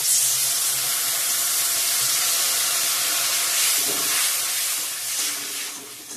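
Water splashed onto turmeric, chilli powder and spices in a hot pan for a masoor dal with drumsticks and tomato, giving a loud, steady steam hiss that fills the whole clip and eases off near the end.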